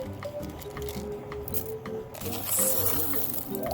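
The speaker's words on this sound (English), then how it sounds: "Just get it wet in the tap water." Tap water runs and splashes over a handful of tumbling stones of pink aventurine at a sink, with close, wet squishing and patter as the stones shift under the stream.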